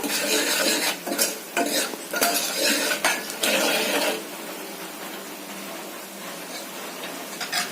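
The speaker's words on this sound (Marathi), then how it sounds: "मिनिटभर चांगलं परतून घ्यायचंय आपल्याला। बारीक गॅसवर हा." A spoon scrapes and clatters in a metal pot as black peas and spices for Malvani-style sambar are sautéed on low gas, loud stirring strokes for about four seconds before it eases into a softer sizzle.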